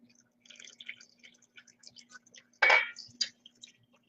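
Liquid poured into the center of a dough mixture for a vegan protein recipe, a brief wet splashing gush after soft clinks and light handling noises, with a quiet steady hum underneath.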